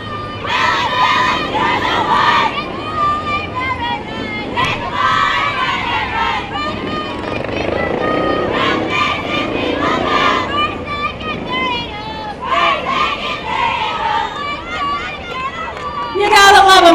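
Softball players at a July 4th parade in Willits, California shout and cheer as a group, with excited voices rising and falling over constant crowd noise, ending in a loud burst.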